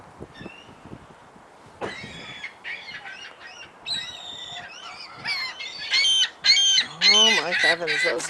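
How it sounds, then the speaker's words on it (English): A flock of noisy gulls squawks and cries, sparse at first then building into loud, overlapping calls near the end, with a few voices murmuring underneath. "those noisy seagulls"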